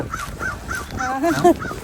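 Crows cawing in Kirkbridge Park, Canada, on a late-winter afternoon; a run of close, loud caws repeats rhythmically, with several birds overlapping near the end.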